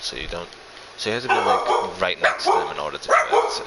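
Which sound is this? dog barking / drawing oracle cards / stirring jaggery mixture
dog barking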